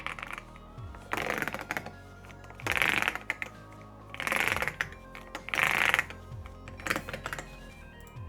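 Someone types on a VENOM60HE magnetic keyboard, producing bursts of rapid, clacky keystrokes that swell and fade in uneven waves, close and fairly loud, with no talking.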